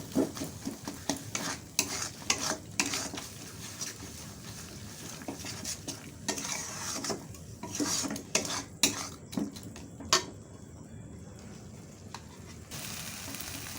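Potato pieces are stirred with spices in a pan for a village-style egg curry, with repeated scraping and clinking of a metal spoon against the pan over a soft frying sizzle, close and steady with no talking.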